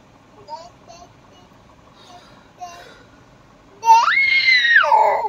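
A small child lets out a loud, sustained high scream at night indoors, after a few quieter squeaky vocal sounds from the child.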